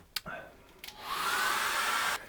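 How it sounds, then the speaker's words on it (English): A hairdryer blows over wet acrylic paint on a seascape painting, starting with a couple of clicks and then settling into a steady, close, rushing whine. "I need to dry that off with a hairdryer."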